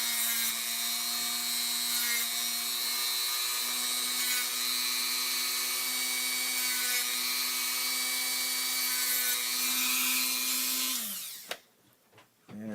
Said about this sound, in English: We can smooth the surface, the top surface out with the same Dremel wheel